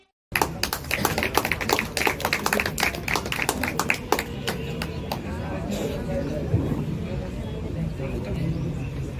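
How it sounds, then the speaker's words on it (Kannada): Audience applause at a children's day program at Swamy Tutorials on Aland Road, Kalaburagi: dense, sustained clapping from a crowd, sharp and lively at first, then settling into a steady, thicker patter with a murmur of voices underneath. "ಕಣ್ಣನು ನೀಡುವ ಅಣ್ಣನಿಗೆ ನಮ್ಮಯ ಪ್ರೀತಿಯ ಚಪ್ಪಾಳೆ"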